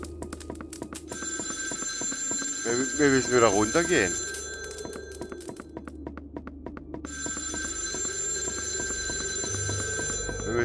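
An old telephone rings at one in the morning in the indie horror game House in the Village 2. The bright, repeating bell rings in two long stretches while someone talks over it between the rings.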